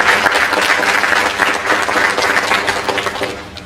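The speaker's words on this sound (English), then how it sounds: "Can I get one more round of applause for Ray Field?" A crowd at an end-of-year celebration for education scholars applauds Ray Field, giving dense, continuous clapping that holds steady and then tapers slightly at the end.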